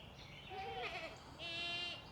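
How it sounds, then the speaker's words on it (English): Two drawn-out goat bleats, one after another, fairly close and clear over a low background hum. "Anybody need two goats? I got a bunch of them way out there."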